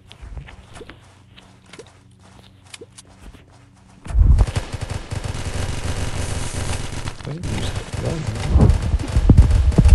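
An XM8 rifle in Zombs Royale opens up halfway through, a loud sustained stream of rapid shots following a quieter stretch of light game sounds and footsteps.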